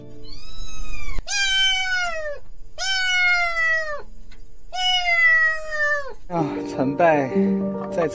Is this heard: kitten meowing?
yes